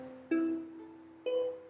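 A ukulele played as part of a riff: two ringing plucked chords about a second apart, each sounding close and clear, then decaying gently.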